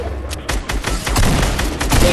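Drum gun firing in Fortnite, a loud continuous rattle of rapid shots mixed with heavy booms and game noise, dense and close throughout.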